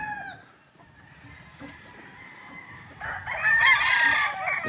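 A Boston Millionaire gamefowl rooster crows loudly and close, with a long strained call in the second half following quieter clucking and background noise.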